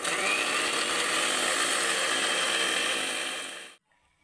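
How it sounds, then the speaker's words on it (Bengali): A lidded kitchen mixer grinder pulverizes eggshells with a loud, close, steady whirring roar that runs for several seconds before cutting off abruptly into near silence. "ঢাকনা দিয়ে দিয়েছি, এবার আমি মিক্সিতে ঘুরিয়ে নেব।"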